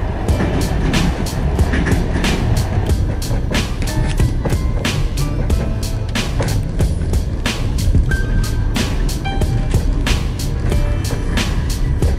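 A train rumbles steadily at loud volume, with rhythmic clacks from the wheels on the rails repeating throughout and no talking.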